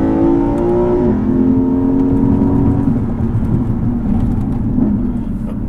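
Lexus IS500 sports sedan with its V8 engine revving hard in second gear on a road, a loud, close throaty roar climbing in pitch, then easing slightly and holding steady, without talk.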